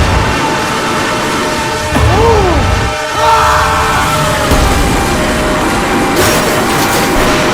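A train approaches a railway level crossing in Indonesia with a loud, continuous rumble, and a rising and falling tone sweeps through partway, likely a horn.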